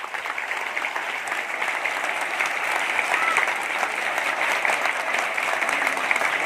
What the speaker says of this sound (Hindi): पूज्य गुरु जी का करतल ध्वनि से जोरदार स्वागत करें।